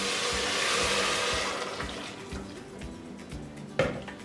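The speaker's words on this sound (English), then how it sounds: "I've prepared a litre of vegetable stock using 2 stock cubes and boiling water, which I'm now going to add." Homemade vegetable stock, made from two stock cubes and boiling water, is poured into a soup pot of minestrone, a steady liquid gush and splash near at hand that thins and tapers off, ending with a brief clink.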